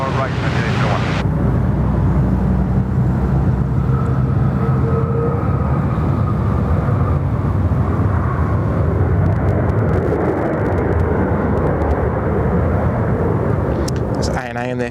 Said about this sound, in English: So there's our Emirates Christchurch bound.